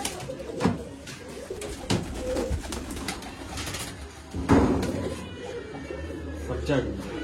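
Pigeons at a Bangalore loft selling racing birds coo softly in short repeated phrases, mixed with wing flaps and background chatter as people talk nearby.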